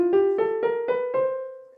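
A bebop jazz scale played note by note on a single pitched instrument, six clear ascending tones with a short chromatic run at the end, each note crisp and evenly spaced, the last one ringing out and fading.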